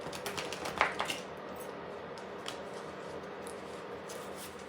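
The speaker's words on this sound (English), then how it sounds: "I will shuffle it one last time just for good measures" A tarot card deck is shuffled up close, giving a quick burst of riffling card clicks in the first second, then quieter light rustling and handling without talk.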